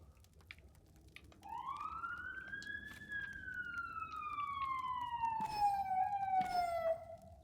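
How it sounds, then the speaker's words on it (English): A fire truck siren heard at a distance, one long wail that rises and then slowly falls, moderately loud over low background rumble, with no one talking. "Oh, it's a fire truck."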